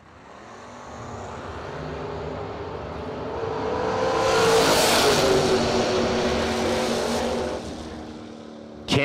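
Mustang drag racing car roaring as it accelerates at a drag strip, a loud sustained engine blast that swells to a peak midway and then cuts off, alone without voices.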